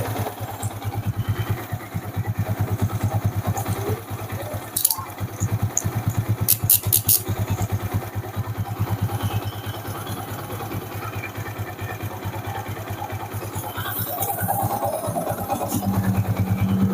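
Yamaha Vixion new motorcycle engine idling steadily, a close, even low rumble with a constant fast pulse throughout and no talk.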